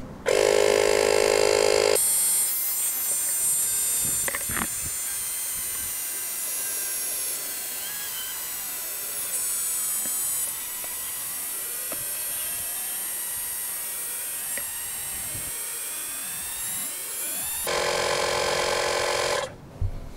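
Cordless 20V multifunction air compressor tire inflator pumping a tire from 5 to 32 psi, a steady loud motor drone with a whining tone running continuously after a brief startup burst, then cutting off near the end.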